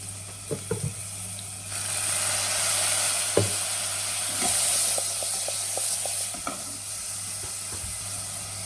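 Soy sauce poured into a hot pan of carrot and egg stir-fry hisses up into a loud, sustained sizzle, with light taps and scrapes of stirring throughout.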